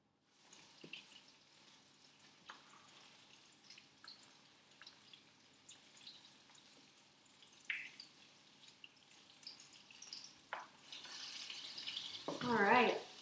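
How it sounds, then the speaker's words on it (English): Green tomatoes fry in a pan of oil with faint, sparse crackles and pops, then a louder burst of sizzling near the end. "I've got 5 tomatoes frying up golden brown in there"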